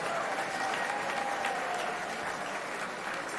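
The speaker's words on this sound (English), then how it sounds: "Another round of applause for our ambassadors." A crowd at a special reception for the Miss Fiesta 2026 selection and Fiesta poster unveiling applauds the ambassadors, a steady, even wash of clapping that holds from start to finish at a moderate distance.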